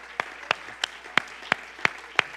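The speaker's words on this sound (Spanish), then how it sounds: "I ask you to stand to your feet and clap your hands unto the Lord." Sparse claps from an Easter Sunday church congregation, about seven separate sharp hand claps spaced at a steady, slow rhythm, fairly close and moderately loud, with no talking.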